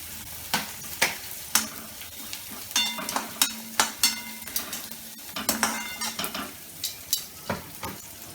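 Onions fry in a pan for carrot Maggi noodles, with steady sizzling broken by repeated sharp scrapes and clinks of a spatula stirring against the pan, close and fairly loud, with no talk.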